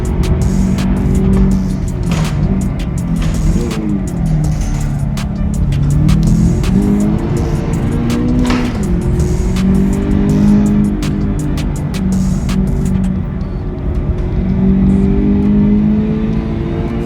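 A Subaru WRX STI on a racing circuit, its engine loud and close as it revs up and down through gear changes, with bursts of tire squeal through the corners.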